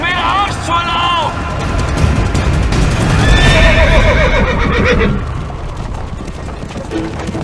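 A horse whinnies loudly and hooves clop amid a dramatic period battle scene with rumbling effects, followed by further neighing, no talking.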